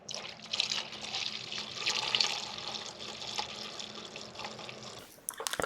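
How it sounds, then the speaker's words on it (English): Gasoline pouring from the removed fuel tank of a 2003 Honda XR400R motorcycle, a steady close splashing trickle of liquid that ends abruptly with a few clunks, with no talking. "pour the remainder of the fuel out of the tank."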